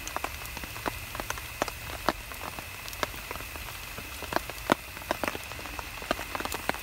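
Heavy rain patters steadily on a surface, with scattered louder drops ticking sharply over a constant wash of hiss.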